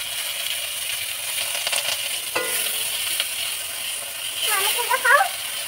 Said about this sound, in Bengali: এটা লাউ পাতা মাছের ডিম দিয়ে ভাজা করছি।